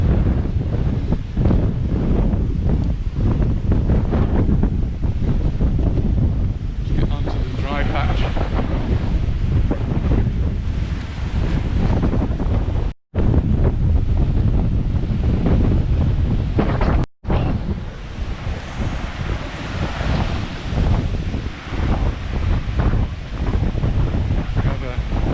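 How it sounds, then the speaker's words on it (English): Strong wind buffets the microphone over turbulent sea with big waves and heavy spray during a boat trip from Portixol to Cala Gamba, a loud continuous roar with brief dropouts. "the sea is still very turbulent. A lot of spray coming up, and some big waves."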